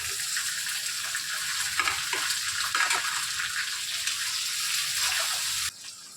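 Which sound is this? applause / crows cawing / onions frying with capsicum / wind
onions frying with capsicum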